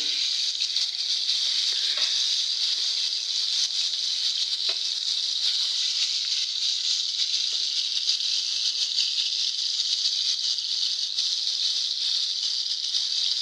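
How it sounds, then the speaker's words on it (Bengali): Pangasius fish pieces frying in a pan, an even, steady high hiss of oil that runs unchanged throughout with only faint scattered crackles. "মাছগুলো উল্টাই দিই, এক সাইড ভাজা হয়েছে।"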